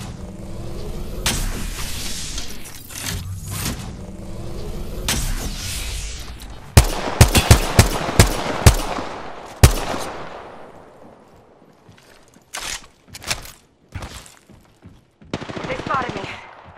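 Apex Legends gunfire, with bursts of rapid automatic shots, several sharp loud cracks in a quick cluster, then scattered short volleys after quieter pauses, set against game ambience.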